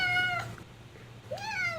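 A pet cat from the 1995 Windows adventure game Phantasmagoria lets out two clear meows, the first rising then falling, a short pause, then a second drawn-out meow, close and distinct.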